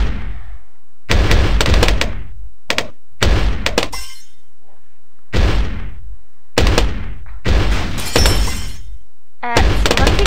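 Cannon tower shots in Bloons TD Battles, a series of loud, sharp explosive bursts with crackling, shattering decay, spaced irregularly over several seconds with near-silent gaps between them.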